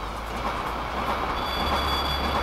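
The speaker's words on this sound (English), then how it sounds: "There's a train coming." A train rumbles into a station in the video game Fighting Force, a steady, heavy rolling roar with a thin metallic squeal rising near the end, close and continuous with no talking.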